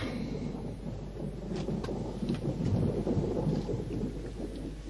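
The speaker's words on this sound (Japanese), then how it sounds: "おや、雨だよ。" Steady heavy rain pours down with a broad rumble of thunder underneath, dense and continuous throughout, with no voices.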